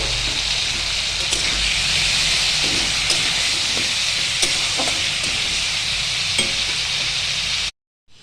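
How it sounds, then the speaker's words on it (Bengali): Potatoes and tomatoes sautéing in a pan with salt and turmeric, a close, continuous sizzle broken by a few soft scraping stirs, running alone until it cuts off abruptly near the end. "নুন আর হলুদ দিয়ে আমি 2 মিনিট ভালো করে কষিয়ে নেব।"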